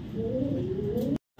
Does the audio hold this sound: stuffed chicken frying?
no